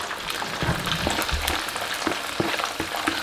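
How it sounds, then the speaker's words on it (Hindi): Chopped onions fry in hot cooking oil in a pan, giving a continuous crackling sizzle with small pops, close and fairly loud, with no talking over it. "प्याज को तकरीबन थोड़ा फ्राई करें।"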